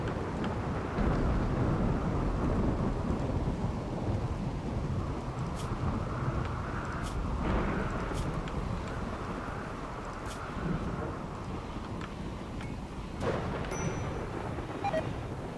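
Steady rain and rumbling thunderstorm noise from the video game Rimworld fills the whole stretch, dense and continuous with broad low rumble, a few brief cracks and faint game clicks on top, no talking.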